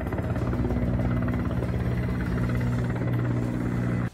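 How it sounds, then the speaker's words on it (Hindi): A helicopter thunders close and loud with steady rotor chop and a droning engine hum, fighting a large fire at a defence research centre in Tver, then cuts off abruptly at the end. "आग इतनी भयानक थी कि दमकल की गाड़ियों के साथ हेलीकॉप्टर को भी उसे बुझाने के लिए लगाया गया।"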